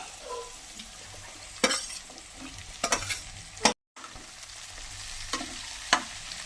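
Capsicum pieces and onions are stir-fried in a pan on low heat, sizzling steadily while a spoon scrapes and taps through them in brisk strokes, with one brief dropout and no talking.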